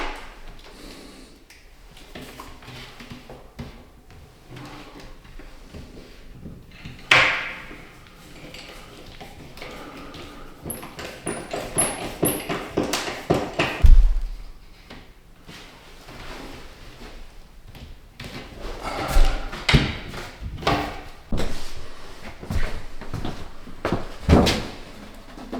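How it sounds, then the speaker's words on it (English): Bifold closet doors being hung and moved in a laundry room hallway of a house being flipped, with repeated wooden knocks, clicks, sliding rattles and a couple of louder bangs, close up and irregular, with no talking. "These are the last bifold closet doors that need to be hung."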